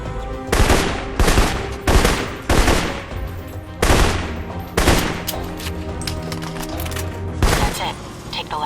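Rifle gunfire in the video game Alpha Protocol, a string of sharp, loud single shots and short bursts spaced a second or so apart over a steady game background, close and prominent.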